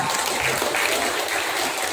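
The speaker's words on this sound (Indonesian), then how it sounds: "Kasih tepuk tangan yang meriah" A crowd at a school farewell and thanksgiving ceremony at SMK Muhammadiyah 5 Kisaran breaks into sustained applause, a thick continuous wash of many hands clapping throughout.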